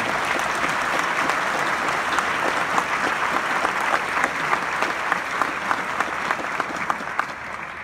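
An audience at a Bridgeport police academy graduation swearing-in gives City Council members a sustained round of applause, a dense, even wash of clapping that holds at steady loudness throughout.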